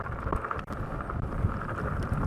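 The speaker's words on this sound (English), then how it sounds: "it's super windy" Heavy wind buffets the microphone while a Lectric e-bike is ridden on a windy hillside loop. It comes as a loud, continuous blustery roar with gusty low thumps and no clear voice.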